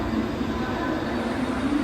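A train at Vashi railway station gives a steady, moderately quiet rumble of wheels and machinery, continuous and without voices.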